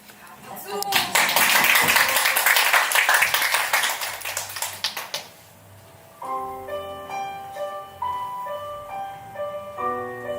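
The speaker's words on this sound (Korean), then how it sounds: "박수" Loud rhythmic clapping from a crowd at a book talk for several seconds, fading out before a keyboard melody begins playing.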